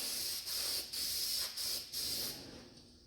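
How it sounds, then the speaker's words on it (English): Spray gun hissing steadily inside the door of a 1948 Chevy truck in a series of close bursts, each about half a second long and separated by brief pauses, with no voices. "now I'm going to get up in here and spray inside the door"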